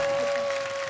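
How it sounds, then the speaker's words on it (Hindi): Steady studio audience applause on The Kapil Sharma Show, a dense clatter of many hands clapping throughout, with a faint constant tone humming beneath it. "एक बार रणधीर जी और करिश्मा के लिए जोरदार तालियां।"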